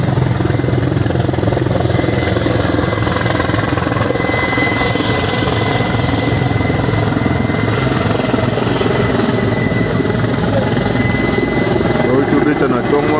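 A helicopter roars loud and close, a steady dense rotor and engine drone running throughout with a voice talking over it.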